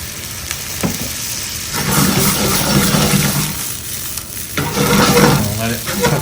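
Guinness stout hits a hot pan for deglazing and bursts into loud, close sizzling that swells and fades in waves, with stirring scrapes and a few light clinks.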